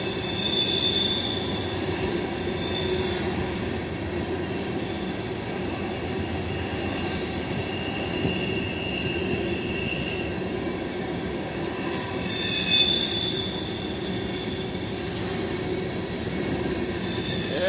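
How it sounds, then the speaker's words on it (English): Three freight trains, Union Pacific and Norfolk Southern, carrying containers and trailers: steady rumble of passing rail cars with high-pitched wheel squeal rising and fading throughout, a continuous heavy train sound with no voices. "I've got three trains going at one time."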